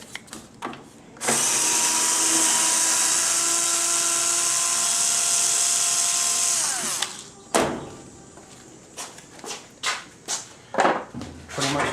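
A small cordless drill gun backs screws out of the back panel of a washing machine, giving one sustained high-pitched whine of about six seconds, close and loud, framed by scattered clicks, knocks and handling sounds.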